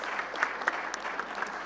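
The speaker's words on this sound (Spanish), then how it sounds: "Nuevamente un aplauso para Caterina Canales." Audience applause at a cybersecurity and AI governance panel event, a steady wash of clapping from a seated crowd with no talking over it.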